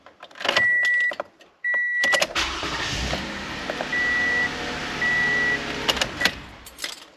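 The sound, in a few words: engine start of a 2015 Toyota Sienna minivan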